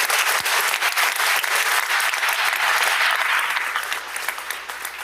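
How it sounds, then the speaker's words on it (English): Applause fills the Mississippi House chamber, a loud, dense burst of many legislators clapping at once that holds steady, then thins and fades in the final second. "Let's give them a round of applause for that right"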